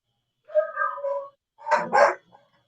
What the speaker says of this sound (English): Is your dog yelling at the mailman or something?